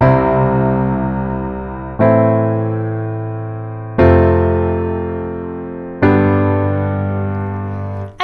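Four sustained chords of a 1-6-4-5 progression, each struck once and left ringing about two seconds before the next, loud and alone with no voice.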